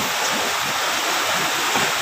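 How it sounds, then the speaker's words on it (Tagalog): Floodwater from Typhoon Carina rushing through a flooded housing area in Marilao, Bulacan, a dense, steady roar of churning water filling the whole stretch without pause. "Mas malakas itong baha na ito kaysa dati no?"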